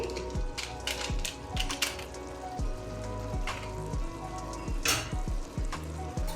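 Chicken fries with Aachi garam masala in a pan, a steady close sizzle broken by regular scraping knocks of a spoon stirring it, with no talking.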